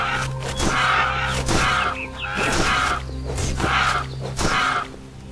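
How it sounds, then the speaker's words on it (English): Crows cawing repeatedly in Titan Quest, harsh calls arriving in a steady series of bursts over a low ambient drone, fairly close and prominent. "More crows."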